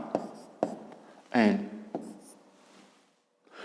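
A pen or pencil writes letters on paper during a fifth-grade geometry exercise, giving a few faint, short scratchy strokes with one louder, longer stroke in the middle and quiet gaps between.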